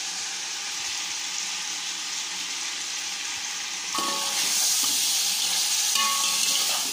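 Chicken frying in a pot for biryani, with yogurt added, gives a steady, loud hiss of sizzling oil; the sizzle swells brighter midway as stirring adds scraping clinks and bubbling.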